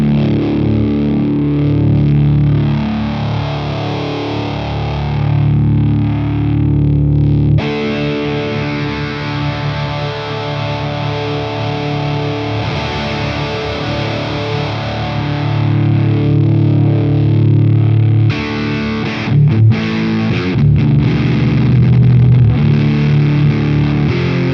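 A heavily distorted fuzz tone drones steadily while a filter sweeps its tone gradually, with a sharp change partway and a bass-heavy, choppy final stretch.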